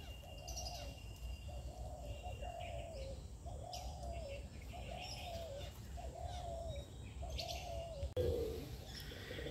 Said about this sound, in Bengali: এখানে পায়রাগুলো দেখো, এগুলো একদম মানে অন্য প্রজাতির পায়রা।